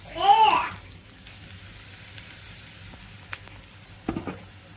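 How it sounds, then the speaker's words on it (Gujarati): Carrot and cabbage sizzling in hot oil in a pan, a soft steady frying hiss near the mic with a few small clinks and a brief high whistle-like squeal at the very start. "તમે સીધું તેલમાં બીજું કાંઈ નથી નાખવાનું સીધું વેજીટેબલ્સ જ નાખી દેવાનું છે"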